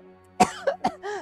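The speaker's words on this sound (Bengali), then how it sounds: "যাক কাশি লেগে যাচ্ছে" A man coughs close by in three sharp bursts, followed by a short throaty vocal sound, with no other talk.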